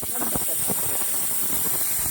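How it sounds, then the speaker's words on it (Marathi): A pressure cooker on a gas stove hisses steadily as steam escapes after three to four whistles, a close, continuous rushing noise with no talking. "तीन ते चार शिट्ट्या झाल्या आहेत"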